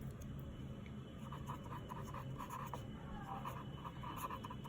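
Chalk or marker writing answers on a classroom board during a chemistry lesson on hybridization, a soft steady scratching and tapping of strokes heard close, with low room hum and no talk.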